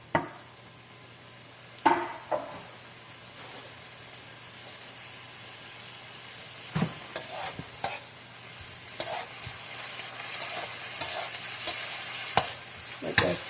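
Vegetables sauté in a soup pot while chicken noodle soup is being made, giving a steady low sizzle broken by scattered clinks and scrapes of stirring and utensils against the pot, with no talk.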